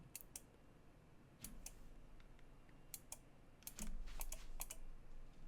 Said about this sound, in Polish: Słyszę długopis.